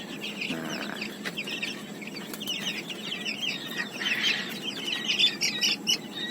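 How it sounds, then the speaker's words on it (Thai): Big-footed chicken chicks nearly a month old chirp and peep in a busy overlapping chorus, close and moderately loud with no talk. "ลูกไก่ตีนโตนะครับ อายุประมาณเกือบเดือนนะครับวันนี้"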